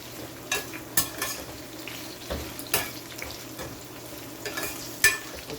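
Codfish frying in hot oil in a home kitchen, a soft steady sizzle with intermittent scraping stirs and clinks, fairly quiet and close, with no voices.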